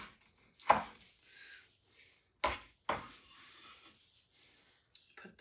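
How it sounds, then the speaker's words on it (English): A knife chops green onion on a cutting board in a few crisp, separate strikes spaced a second or more apart, close and clear against a quiet background. "And then we'll just cut our green onion."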